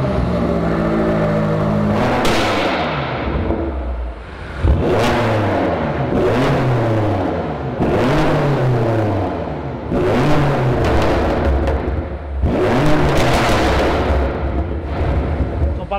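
A 750 hp BMW M8 F92 Competition coupe with an Fi exhaust and catless downpipes revs hard again and again, each loud throttle blip rising and falling in a steady series of roaring pulls and crackling drops.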